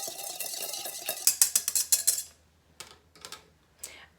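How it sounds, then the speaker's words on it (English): A whisk rattles briskly against a bowl, fast rhythmic metallic clicks for about a second, then a few scattered lighter taps, close and clear with no voices. "now I'm going to use my whisk, and I'm going to whisk these ingredients"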